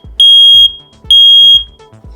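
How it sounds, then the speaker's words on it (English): Household smoke alarm going off: loud, piercing electronic beeps, each held for about half a second, repeating in a regular pattern close by. "When the smoke alarm sounds in the night, you will hear it go off."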